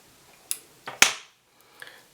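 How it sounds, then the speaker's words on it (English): Small scissors snip off leftover marabou feathers while a fly is tied, giving a few sharp close clicks, the loudest near the middle, followed by a faint soft rustle. "Cut all this leftover marabou off."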